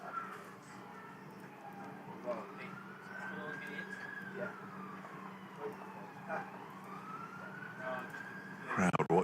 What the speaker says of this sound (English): Emergency services, there must be about 15 different vehicles there, judging by all the different sirens.